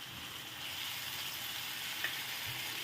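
Boiled prawns drop into a hot pan and fry with a loud, continuous sizzle, steady throughout with one small pop partway through.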